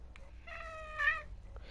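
A pet cat meows while its chin acne is being cleaned, one drawn-out complaining meow that rises in the middle, close and clear, with a soft sound of handling before and after.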